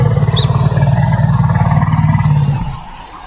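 Elephants in the Lower Zambezi give a deep, throbbing, roar-like rumble that carries steadily for a few seconds, loud and close, before fading out.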